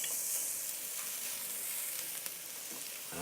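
Beef sizzles steadily in a hot pan, a continuous close crackle of frying with a few faint scrapes near the end.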